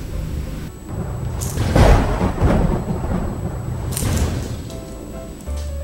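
Thunder in a storm rumbles loudly alone, with broad low rolling swells and sharper cracks around two and four seconds, under steady rain noise.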